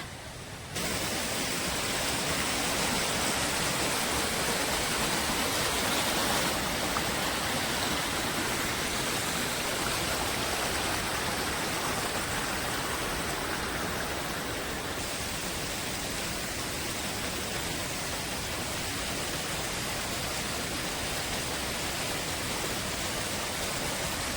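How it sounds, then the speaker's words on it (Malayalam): Bhoothakuzhi waterfall roars as a dense, steady wash of falling water, loud and close, unchanging across the whole stretch with no voices. "ഇതാണ് ഭൂതക്കുഴി വെള്ളച്ചാട്ടം"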